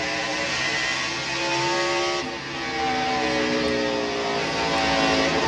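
NASCAR stock car at the 1999 Goody's Headache Powder 500 accelerating down the straightaway toward 36-degree banking, a sustained high-revving engine roar with rising harmonic tones, loud and steady throughout with a brief dip midway.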